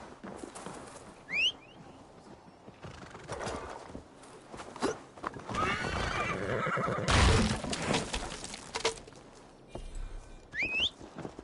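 A horse in Assassin's Creed Valhalla gives two sharp whinnies, one early and one near the end, with hoof clops, footsteps and faint ambient bird and whistle sounds filling the gap between them.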